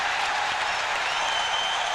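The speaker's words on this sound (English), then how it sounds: "The crowd comes off their hands, and so they should." A hockey arena crowd at a USA vs Finland Canada Cup game applauds a goaltender's save, a dense, steady wash of clapping and cheering with no gaps.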